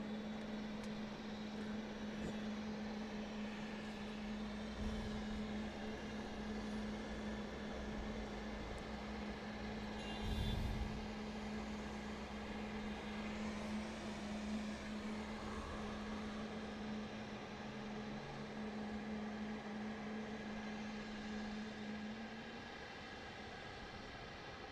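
A jet takes off from runway 34 left at Sydney Airport, heard as a steady distant roar with a sustained low drone and broad rushing noise, faint and unchanging across the stretch.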